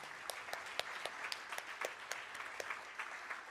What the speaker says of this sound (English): Please join me in a final round of applause